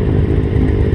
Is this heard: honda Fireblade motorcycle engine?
yes